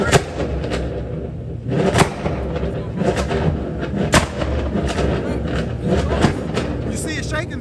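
Sharp exhaust backfire pops from a car at a car meet, repeated loud bangs at irregular intervals over a rumbling engine drone, with people talking nearby.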